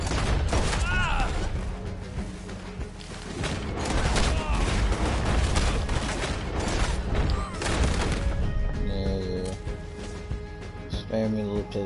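Dense gunfire from the Red Dead Online multiplayer western, with repeated pistol shots and other weapons cracking in rapid bursts throughout, loud and close, with some game clatter toward the end.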